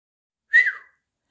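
A single short, clear whistle rises and then slides down, heard alone against silence.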